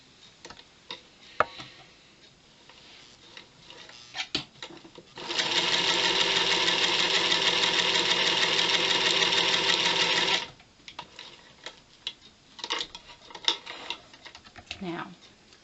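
A sewing machine stitches pieces of a flying geese quilt block in one steady run of rapid, even needle strokes lasting about five seconds, with quieter handling noises before and after.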